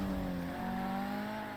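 A car engine in the Yakuza video game holds a steady, droning rev, with a constant tone sustained close and loud throughout.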